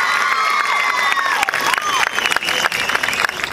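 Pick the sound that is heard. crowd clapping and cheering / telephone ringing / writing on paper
crowd clapping and cheering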